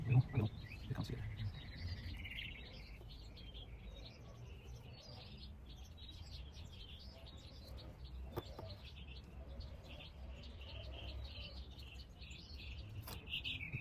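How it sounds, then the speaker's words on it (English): Birds sing and chirp outdoors around a back porch, steady scattered calls at moderate distance over a constant low outdoor hum, with no talking. "The birds are singing. Sounds spread everywhere."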